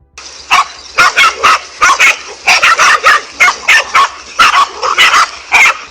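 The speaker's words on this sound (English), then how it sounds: "this king cobra managed to get in trouble with a pack of 5 dogs" A pack of five dogs barks at a king cobra, loud close barks and yips firing in quick, nearly regular bursts for the whole stretch with no pause.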